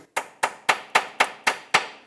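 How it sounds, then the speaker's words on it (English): Seven sharp metallic hammer taps seat a ring onto a 2008-2012 Honda Accord front lower ball joint, at an even, quick rhythm, close and clear with nothing else around them. "then tap it in with a hammer"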